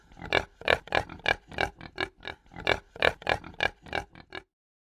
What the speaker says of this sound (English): Let's hear it oink.